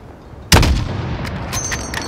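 A single powerful weapon blast in the Modern Warfare campaign, a sudden loud boom with a long rumbling tail and faint clinks afterward, no voices over it.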